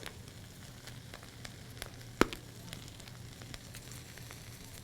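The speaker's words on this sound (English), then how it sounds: "Now I'm going to give this a toss to get things moving around." Greens with garlic sizzle steadily in a hot pan, a soft continuous crackle with scattered pops and one sharper tick as they are tossed.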